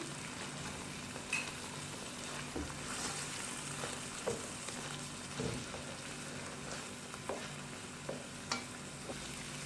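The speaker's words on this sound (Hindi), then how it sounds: "1 से 2 मिनट के लिए मैं इनको सौते करूंगी।" Corn kernels and chopped capsicum sautéing in a pan with salt and black pepper, a steady soft sizzle broken by occasional stirring scrapes and clicks, close and moderately quiet with no talking.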